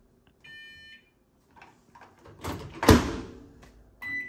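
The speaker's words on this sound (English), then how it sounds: "Let's turn on the microwave, see what we've got." A microwave oven is switched on: a short electronic beep, a louder clunk a couple of seconds later, then another beep, all close and fairly quiet.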